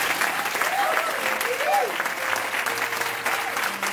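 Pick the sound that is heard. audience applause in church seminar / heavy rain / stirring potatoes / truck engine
audience applause in church seminar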